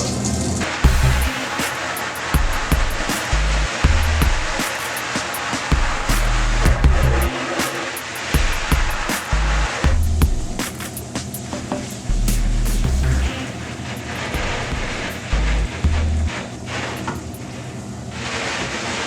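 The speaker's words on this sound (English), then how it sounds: "we're just going to be washing this out with hot water, and we've got just a hose connected to the sink with a nozzle on it" A hose with a nozzle at a sink sprays hot water to wash water-based screen-printing ink off a mesh screen, giving a steady hiss of spray with uneven low thumps and spatters as the stream shifts.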